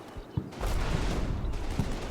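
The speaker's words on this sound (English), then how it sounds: "Unfortunately, can see machine gun fire starts coming in." Dense machine gun fire from a war video game, a rapid, loud, rattling burst of overlapping shots that holds steadily for a couple of seconds, with several heavier thumps mixed in.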